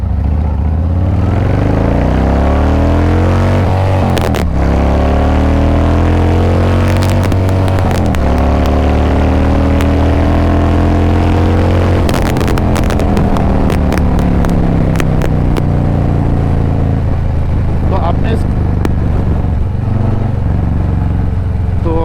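Harley-Davidson Fat Boy 107 cruiser accelerating hard, a loud, close rumbling V-twin that climbs in pitch through the gears, with a brief drop at each shift and heavy wind buffeting throughout.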